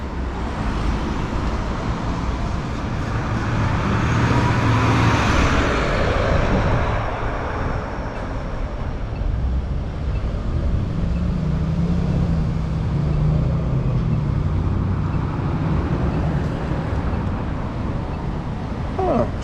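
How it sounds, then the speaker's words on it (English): Street traffic on Van Ness Avenue in San Francisco near Broadway, a steady roadway rumble of passing cars at a busy intersection, continuous and fairly loud with a swell of a nearer vehicle passing midway. "traffic's flowing today"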